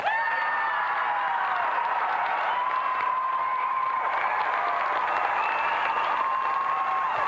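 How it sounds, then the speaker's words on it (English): A TV game show studio audience applauds steadily throughout, a dense continuous wash of clapping with no voices, sustained at an even level from start to finish. "Let's have another round of applause for tonight's semi-finalists, Paul Lakin and Duncan McDonald."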